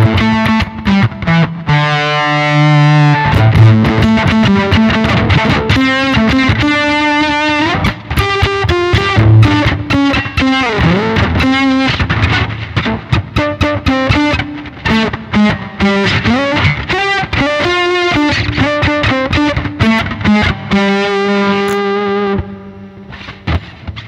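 An octave fuzz setting on a Zoom G1X On multi-effects guitar pedal, heard as a loud, continuous distorted electric guitar line with a thick doubled upper octave, played alone for a long stretch.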